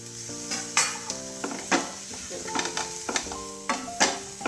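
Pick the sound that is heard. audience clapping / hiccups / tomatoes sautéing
tomatoes sautéing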